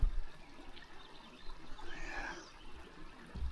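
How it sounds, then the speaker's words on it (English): Creek water flowing at night near an old 1800s gold mining ghost town in Montana, a steady soft rushing and trickling wash, fairly faint and continuous with no voices. "All you hear at night is this sound of the creek."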